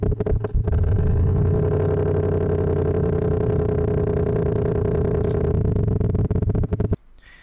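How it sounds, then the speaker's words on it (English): An R1 engine in the Next Gen Engine Simulator game holds a steady, loud, humming idle for several seconds before abruptly dropping off. "This is the R1 engine."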